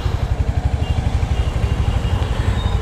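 A Royal Enfield Hunter 350 single-cylinder motorcycle idles in first gear close by, its exhaust giving a steady, even pulse of low thumps throughout.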